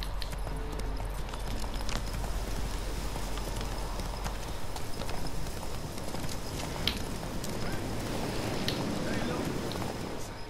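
Horse hooves clip-clop steadily at a gallop in the video game The Witcher 3, a continuous rhythmic beat under game ambience with a low rumble early on, and a voice speaking over it.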